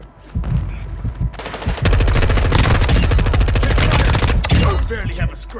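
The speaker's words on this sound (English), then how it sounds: "you are taking effective fire" Sustained automatic gunfire in a Call of Duty DMZ firefight on the Al Mazrah map, dense rapid bursts building into continuous loud shooting, with brief voice lines mixed in.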